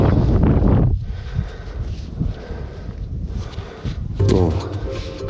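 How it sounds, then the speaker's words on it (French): Gusts of wind rumble against a microphone in an open field while metal detecting, loud at first then easing into a steadier low buffeting, with people talking over it. "Oh là, le vent."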